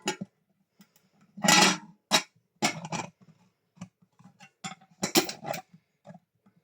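Several short metallic clinks and rattles of a £2 coin being put into a tin, fairly close, with brief scraping between them and quiet pauses in between.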